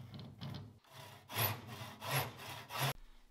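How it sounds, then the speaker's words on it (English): A hand saw cuts a 45 degree angle through a small wooden project piece, several rhythmic rasping back-and-forth strokes up close, ending abruptly, with no talking. "I can follow that down with the saw as I cut"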